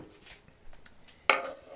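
A knife chops tomatoes on a cutting board with a few soft light taps, then one sharper clack of the blade striking the board, close and brief.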